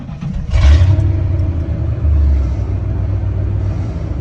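Low, steady engine idle from an OBS Ford truck fitted with a Go Fast Racing ignition, a deep rumble with a slight swell near the start, heard up close from inside the cab with no talking.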